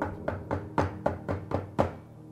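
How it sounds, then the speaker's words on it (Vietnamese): Knocking on a wooden door: seven evenly spaced, fairly firm knocks in a steady rhythm, heard close and on their own with no voices. "Có tiếng gõ cửa."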